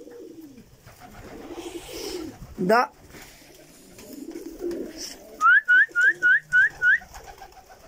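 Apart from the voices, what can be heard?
pigeons cooing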